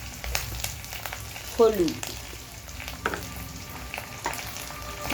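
Ground coriander, cumin, chili powder and turmeric sizzle steadily in hot oil in a pan while being stirred for a spiced fig mash, with a brief spoken word over the frying.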